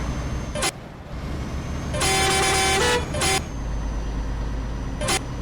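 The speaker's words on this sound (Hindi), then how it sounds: "काफ़ी शानदार हॉर्न है इसका।" Ashok Leyland truck horn in the driving game Euro Truck Simulator 2, a loud multi-tone blast of about a second, preceded and followed by short single toots over a steady engine drone.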